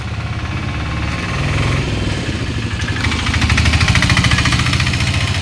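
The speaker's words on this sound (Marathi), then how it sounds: "गाड्यांचा खडखड खडखड खडखड धडधड धडधड आवाज" Vehicles on a street rumble and rattle past, with a loud, near engine drone that rises and throbs more strongly toward the end and has no speech over it.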